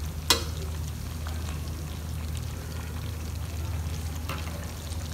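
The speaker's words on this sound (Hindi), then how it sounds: "ये इस तरह लाइट लाइट फ्राई, ज़्यादा डार्क नहीं करना।" Light, steady sizzle of mutton korma ingredients frying gently in a pan, with a sharp clatter near the start and another brief knock later.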